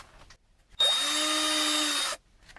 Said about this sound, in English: Looks like we might need to use the drill a little bit.